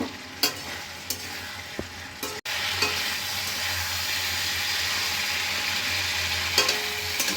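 Cauliflower and potato with turmeric and chili sauté in a pan, a dense, close sizzle broken by sharp scraping clicks of a spatula stirring, with no talk.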